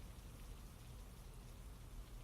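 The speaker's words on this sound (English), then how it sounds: "The downpour of rain above Kaleb and Teva slowed a bit." Steady rain downpour, a dense even hiss of falling drops with no breaks or voices, faint and continuous throughout.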